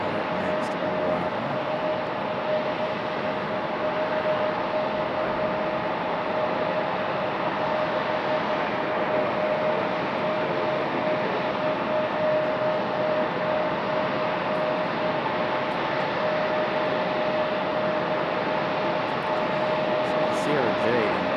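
An arriving airliner at Raleigh-Durham airport gives a steady, broad jet roar with a faint sustained engine whine, loud and unchanging throughout, with speech faintly present.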